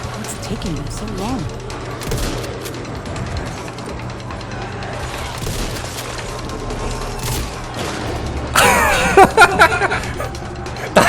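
Gunfire in the zombie shooter game Back 4 Blood, rapid overlapping shots and bursts under constant talk from players, getting louder and denser toward the end.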